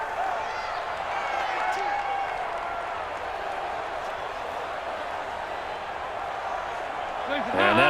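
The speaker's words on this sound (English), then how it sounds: "The crowd's not doing that O-line any favors." A loud, steady stadium crowd roar fills an NFL 20 football video game broadcast from start to finish, swelling slightly near the end, with a home crowd drowning out the offense at the line.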